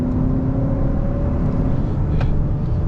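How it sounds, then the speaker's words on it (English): A Hyundai Sonata N Line accelerates with quick paddle-shifted gear changes, a steady close engine hum and whir inside the cabin with a short click near the end. "Now I'll use these paddle shifters, which shift really quickly."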